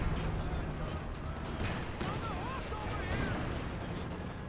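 Artillery and gunfire in the Company of Heroes 2 strategy game on the Port of Hamburg map, a continuous rumble of distant blasts and shots running under a commentator's talk.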